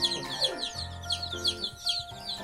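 Chickens cluck and chirp repeatedly inside a rural backyard chicken coop with a sheet-metal roof, a steady chorus of close bird calls with no speech.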